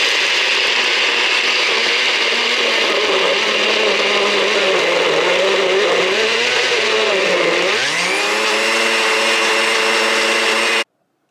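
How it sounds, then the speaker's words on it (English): A small food processor grinds pistachios into paste with a loud, steady motor whine under a gritty churning. The pitch dips and then climbs near the end before the machine cuts off abruptly. "So we're actually using a little food processor"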